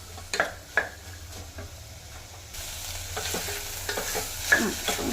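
Vegetables for a broken wheat biryani are stir-fried in a pan with a constant hissing sizzle. A spatula scrapes and knocks against the pan in irregular strokes.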